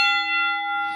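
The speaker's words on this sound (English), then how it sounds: "There's that bell." A single bell strike rings out clear and bright, its pure sustained tones hanging evenly and slowly fading over a second, with nothing else heard.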